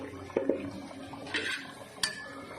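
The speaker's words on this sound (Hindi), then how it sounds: "अब मैं इसके अंदर डाल देती हूँ राइस जो हमने भिगो के रखे थे" Soaked rice tipped into a pot of boiling water for Kabuli pulao, heard as a few clinks and scrapes of metal utensils against the pot with a soft watery swish, close and fairly quiet, no talking.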